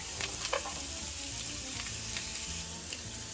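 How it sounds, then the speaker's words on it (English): Onion and garlic sizzling in olive oil over medium heat, a continuous close frying hiss with a few faint stirring taps and no speech. "We're gonna add our onion and the garlic."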